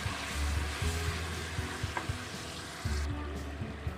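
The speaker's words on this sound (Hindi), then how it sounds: "अच्छी तरह से इसको भी भून लेंगे" Tomato paste and ginger-garlic paste fry in a pan for a goat trotters (paye) curry, giving a steady soft sizzle with a few stirring scrapes throughout, fairly close and moderately quiet, with no talking.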